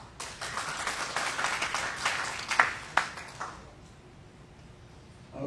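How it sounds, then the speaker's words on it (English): A modest crowd at a delegates meeting claps for a couple of seconds, scattered individual claps thinning out and fading into quiet room tone near the end. "they deserve a round of applause."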